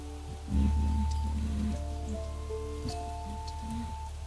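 Rain falls steadily in the video game Niche, a soft continuous patter under a layered musical drone, with a low rumbling swell early on and no one talking.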